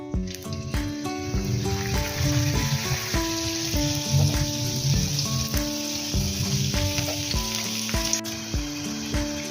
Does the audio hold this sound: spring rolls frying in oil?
yes